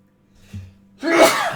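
A single close sneeze in a quiet room during a chess lesson, preceded by a short sharp intake of breath and bursting out loudly for about half a second.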